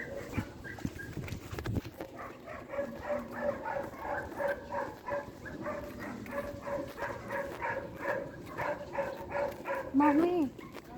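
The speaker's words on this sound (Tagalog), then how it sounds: "Ang daming aso, mi." Several dogs bark in repeated bursts, some close and some farther off, with a few yips and whimpers mixed in. People talk intermittently in the background.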